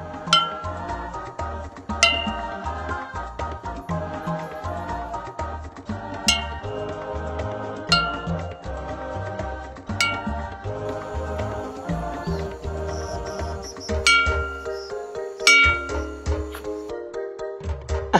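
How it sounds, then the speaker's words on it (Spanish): A metal tube struck in Amazon river water in Ecuador to call pink dolphins, producing repeated ringing metallic clangs with long resonant tails that overlap in an irregular rhythm, loud and close. "Este es un tubo para, o sea, para hacer un eco dentro del agua."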